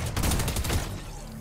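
A drum-fed shotgun fires in a video game, a dense burst of loud, rapid blasts packed together for under a second before fading into a short tail, with no talking over it.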